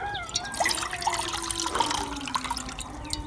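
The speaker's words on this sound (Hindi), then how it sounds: "फ्राई पैन में शामिल करेंगे हम तकरीबन 2 कप पानी।" Roughly two cups of water poured into a frying pan set on a stove, a steady close splashing trickle with bright liquid gurgles running throughout, no voices.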